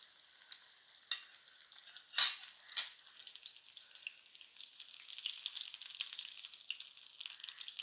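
Chicken pieces frying in hot oil over low heat for a starter, a soft crackling sizzle with a few louder utensil scrapes and clinks near the start, then a faint, busy bubbling; no talking.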